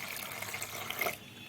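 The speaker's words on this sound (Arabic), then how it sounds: "بس قبل ما هنزل بالرز هنزل عليه بكوباية مية" Cup of water poured into milk in a pot while making rice pudding, a brief close splashing pour rising to a burst before stopping.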